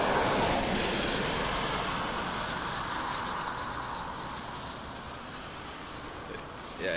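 An irrigation ditch in Applewood runs high with stormwater, its water rushing and churning in a steady broadband wash that fades slightly over several seconds, mixed with some wind buffeting on the microphone.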